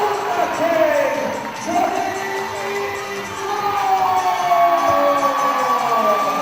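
A wrestling crowd at an FWA versus All Star Wrestling show cheers and roars steadily, a loud sustained wall of voices, with other noise mixed in.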